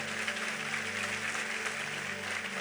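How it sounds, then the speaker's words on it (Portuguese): An audience at a spoken talk applauds steadily and loudly for the whole stretch, a dense continuous wash of clapping with a low steady hum beneath it. "Aplauda ele forte aí."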